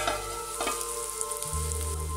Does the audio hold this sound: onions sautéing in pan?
yes